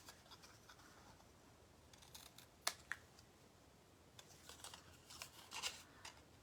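Scissors snipping around a stamped paper card, a few quiet crisp cuts and scratchy paper rustles spread across the stretch, faint and close with no talking.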